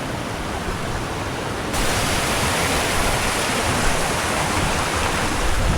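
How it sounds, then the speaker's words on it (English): Steady, dense rush of falling water fills the scene, growing louder and fuller partway through and continuing without pause. "We've got the waterfall."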